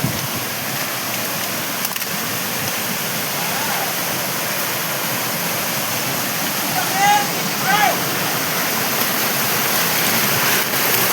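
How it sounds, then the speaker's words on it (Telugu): Rainwater overflowing from a hill and rushing in a fast stream: a loud, continuous roaring torrent of water, close and unbroken, with faint bird calls briefly cutting through midway. "వాటర్ ఎంత స్పీడ్గా ఫ్లో అవుతున్నాయి ఇక్కడ"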